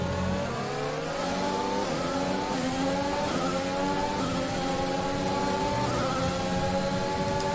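Formula 1 car engine from the F1 2021 video game at Silverstone, a high screaming whine rising repeatedly through gear changes on a fast lap, steady and loud with no talk.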